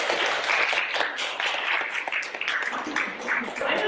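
Audience applause after a speaker is introduced at a talk on building high-performing teams, steady dense clapping filling the room for several seconds without a break.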